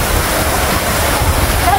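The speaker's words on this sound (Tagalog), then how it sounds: "Nakakatuwa yung waterfalls ha." Steady, loud rush of a river waterfall at Dingalan, Aurora, a constant broadband roar with no breaks.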